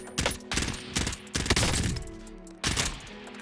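Rapid bursts of automatic gunfire in the Warzone video game, several quick volleys with short gaps, moderately loud and mostly without talk.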